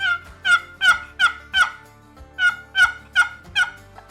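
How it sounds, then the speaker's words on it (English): Repeated turkey yelps from a wooden box call, lid scraped against the sidewall, about ten sharp raspy notes in two quick runs separated by a brief pause, close and clear. "Very simple to use, sounds a lot like a turkey."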